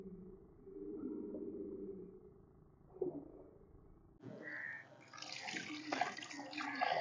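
Pieces of tuna washed by hand in water, with soft splashing and sloshing at first, then brighter running, trickling water taking over in the second half, close and fairly quiet.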